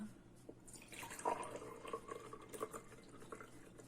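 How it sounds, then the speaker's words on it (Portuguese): Water pours from a tap into a glass in a quiet room, a soft, continuous trickling with small splashes and drips, faint and close. "E agora eu vou encher de água."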